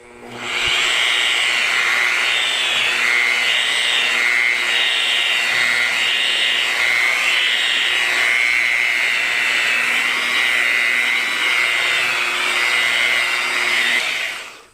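Rotary polishing machine whirring steadily as it buffs the faded paint of a Cutlass stored for 33 years, a loud continuous high drone with a wavering pitch as the pad grips, running nonstop from start to end with no talk.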